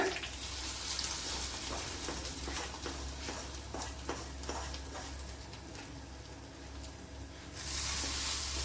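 Mustard seeds and cut dried chili crackling in a tablespoon of hot coconut oil for an egg curry, a continuous sizzle with scattered sharp pops, growing louder and hissier near the end.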